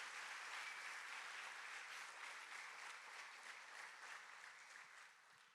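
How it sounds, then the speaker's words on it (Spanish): Church youth congregation applauding during a sermon: a continuous, even roar of many hands clapping, heard faint and somewhat distant, easing slightly toward the end with no speech over it. "Si ese aplauso es para Dios, déselo más fuerte."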